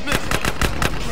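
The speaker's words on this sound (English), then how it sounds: "there are people shooting at us, too" Rapid bursts of gunfire from a drive-by shooting in GTA San Andreas on PS4, about six loud, evenly spaced shots cracking in quick succession, close and dense.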